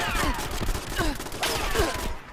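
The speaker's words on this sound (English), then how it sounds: "this turret is a machine gun turret" Rapid bursts of machine gun turret fire in the Fallout 76 video game, a dense stream of sharp shots with descending whizzing tones layered over them, loud and continuous before cutting off near the end.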